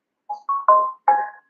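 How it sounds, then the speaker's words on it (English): A work phone rings with four short electronic tones in quick succession, clear and close in an otherwise silent room. "My mom's been calling my work phone"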